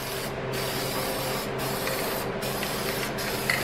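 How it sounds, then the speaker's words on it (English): Spray paint hissing steadily onto a car bumper during a car build, a continuous close spray broken by a few short pauses between passes. "Giving no fucks, just spraying it right through the bumper."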